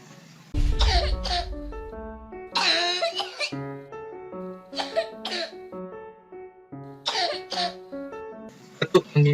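A painful, harsh cough of the kind linked to flu, heard up close as several rough, voiced bursts spread across a few seconds, separated by short pauses.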